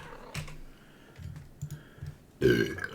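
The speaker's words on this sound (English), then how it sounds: "I can't stop burping." A loud, gurgling burp erupts near the end after quiet keyboard clicks and a smaller belch earlier, close to the microphone.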